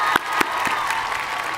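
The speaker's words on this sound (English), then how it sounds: "One more applause for these honor graduates and the amazing achievement they've had." A short burst of crowd applause for honor graduates at a high school graduation ceremony, steady clapping with a few sharper claps standing out near the start.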